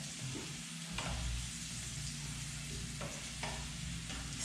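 Turnips and garlic fry in a pan, a steady soft sizzle broken by a few scraping stirs of a utensil, close and quiet with no talking.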